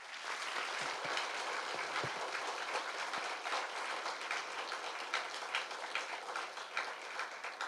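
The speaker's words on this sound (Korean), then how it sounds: "유가족분들과 함께하겠다는 마음을 담아 더 크게 박수 부탁드리겠습니다" A meeting audience in a large conference hall gives sustained applause, a dense, even wash of many hands clapping at a distance, unbroken for several seconds.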